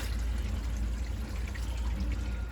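Water poured out of a Bio Renew filter housing, a short continuous splashing gush with low burbling weight, close and steady for a couple of seconds.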